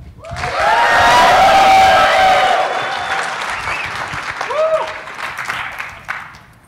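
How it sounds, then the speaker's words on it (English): Conference audience at a KubeCon talk bursts into loud applause that swells quickly, holds, then tapers, with scattered cheers and a few voices calling out near the end. "With that, big round of applause."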